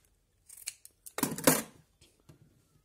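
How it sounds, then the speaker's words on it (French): Fabric for washable makeup-remover wipes is snipped with scissors in a few quick, close cuts, with a bigger crunching slice in the middle and small clicks of the blades around it. "je vais venir couper ici"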